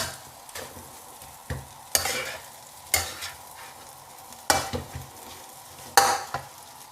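Thai fried rice is stirred and tossed in a hot pan, a soft steady sizzle broken by sharp scraping strokes of the spatula about once a second, with no talking.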